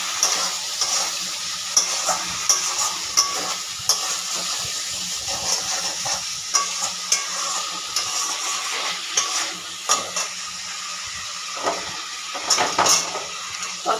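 A rohu fish and prawn curry simmers and sizzles in a pan after ginger and a splash of water go in, with a constant frying hiss broken by repeated scraping stirs of a spoon against the pan.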